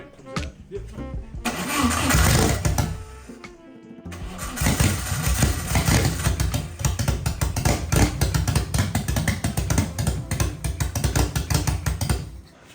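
A 300 hp turbo engine in an abandoned 1980s supercar cranks briefly on a refitted starter, stalls into a pause, then catches and roars into a loud, rough, uneven idle that keeps running close by.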